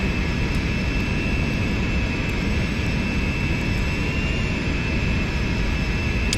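Simulated jet engines of an L1011 Tristar hold a steady, loud roaring whine during taxi in a flight simulator game, a continuous broadband rumble with a high tonal hiss and no speech.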